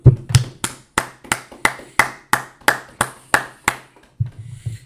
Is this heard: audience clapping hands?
yes